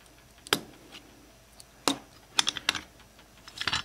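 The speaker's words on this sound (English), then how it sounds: "I'll take a small screwdriver and slide it in between the base and the body" A small screwdriver pries the base from the body of a rusty, muddy Matchbox Ferrari Berlinetta, giving a few sharp, close clicks and scrapes spaced apart, then a quick cluster of small clicks at the end.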